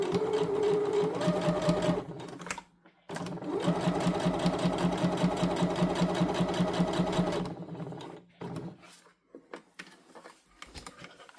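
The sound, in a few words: sewing machine stitching fabric for a scrunchie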